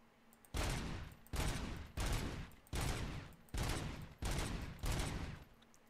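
Bursts of gunfire at a shooting range in the game Robocop: Rogue City, six loud sustained volleys in a steady rhythm, each about half a second long, heard alone without talk.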